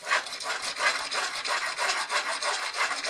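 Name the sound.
rasp filing primer off wood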